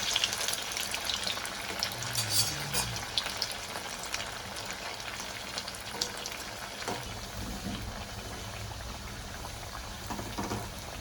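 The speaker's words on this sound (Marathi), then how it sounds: "मी आता वडे तळून घेते" Kothimbir vadi, coriander-gram flour fritters, frying in hot oil, giving a steady close crackling sizzle with faint watery bubbling throughout, no voices.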